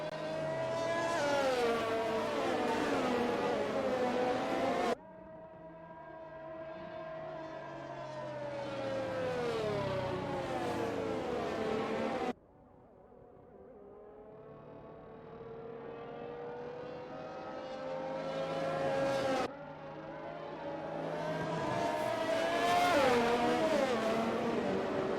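Race cars from an F1 video game, set in Melbourne, run at steady pace behind a safety car, their engines holding long sustained tones that rise and fall in pitch, with loud unbroken droning across several passes and no talking.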